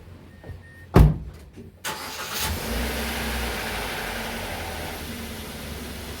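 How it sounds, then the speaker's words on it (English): A 2013 Mazda 3 engine cranks and catches with a sharp start after an oil change, then settles into a steady, close idle with a brief rev. "I'm going to go ahead and run the engine here for a little bit."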